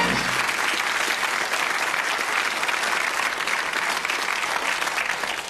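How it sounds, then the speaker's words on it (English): Sustained studio audience applause on a darts game show, dense clapping that stays steady and loud throughout, without talk over it. "Give them a round of applause, the two ladies."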